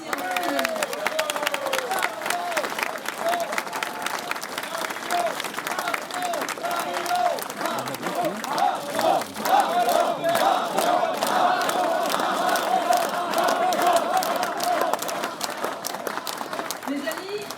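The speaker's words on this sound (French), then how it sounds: "Vous pouvez vous applaudir." Political supporters at a French election-night speech applauding and cheering loudly and continuously, a dense crowd roar with shouts and clapping that fills the whole stretch.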